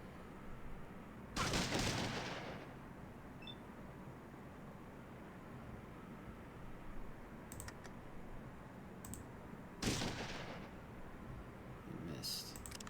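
Shotgun blasts in Fallout 2, two broad booming shots spaced several seconds apart with fainter clicks between, over a low steady background hiss.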